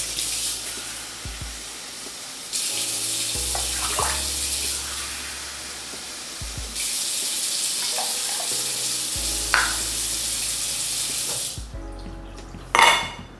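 Two cups of water for cooking rice run and splash steadily into a pot for several seconds, pausing twice and resuming, ending with a short clatter.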